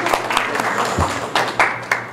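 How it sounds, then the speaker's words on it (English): Adults at a Kiwanis Key Club officer installation ceremony applauding, a loud, thick wash of clapping from a room full of hands, steady throughout with a few sharper claps standing out. "Yes, round of applause."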